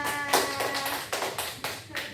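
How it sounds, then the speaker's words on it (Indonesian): A small school classroom group claps briefly, a handful of close, uneven bursts of hand claps over about two seconds, with a voice speaking over the start. "Beri tepuk tangan dulu buat Mbak Afia."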